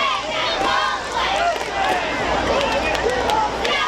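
Big crowd at a high school football game in Milan, a steady roar of cheering and shouting voices with whistles mixed in, loud and continuous throughout.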